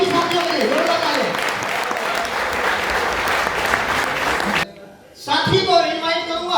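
Vigorous applause from a large seminar crowd in Greater Noida fills the room for several seconds as a thick, sustained clatter with talk layered over it, cuts out abruptly, then a voice resumes speaking over lingering noise.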